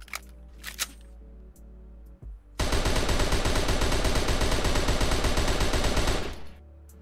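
Rapid, steady automatic fire from an XM8 rifle in Unturned, a few quiet clicks and handling sounds preceding a loud, continuous burst lasting several seconds with an even, fast rhythm, then stopping abruptly.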